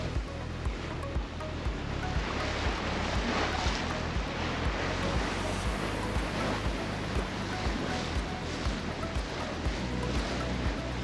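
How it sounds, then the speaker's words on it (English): Wind and waves build while a sailboat travels along the Georgia–Florida coast, giving a steady wash of surf and blustery wind buffeting the microphone, with a low rhythmic rumble underneath. "The wind and waves are starting to pick up."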